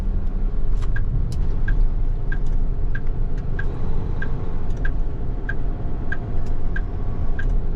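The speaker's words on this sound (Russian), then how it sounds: "мотор ревет." A car engine drones steadily during a drive in Japan between Osaka and Nagoya. The rumble is loud and close, with a regular ticking like a turn indicator running over it.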